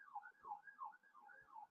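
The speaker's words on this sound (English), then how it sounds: "sorry about the sirens." Faint wailing emergency vehicle sirens outside in the distance, pitch sweeping up and down repeatedly, with no voices over it, heard during an online public safety committee meeting.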